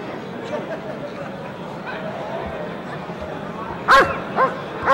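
A police dog at a 1997 KNPV trial barks outdoors, a few sharp barks near the end above a crowd's steady murmur and distant chatter.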